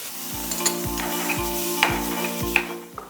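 Tomato, garlic, salt and black pepper frying in a pan, with steady sizzling and a regular series of about six spatula scrapes and stirs against the pan, close and clear, no talking.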